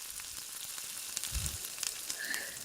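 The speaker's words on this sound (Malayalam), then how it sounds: "ഇനി ഇതിലേക്ക് ഒരു ക്യാപ്സിക്കത്തിന്റെ പകുതി കട്ട് ചെയ്ത് ചേർത്ത് കൊടുത്ത് നല്ലോണം വഴറ്റിയെടുക്കാം." Half a chopped capsicum and onion sauté in a pan for restaurant-style gobi Manchurian, a soft steady sizzle with a few light stirring clicks and a low thump midway.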